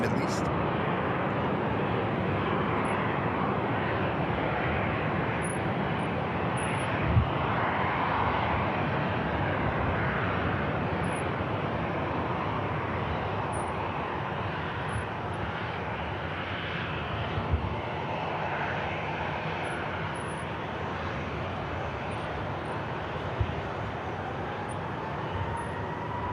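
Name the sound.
Qatar Airways A350 landing at Manchester Airport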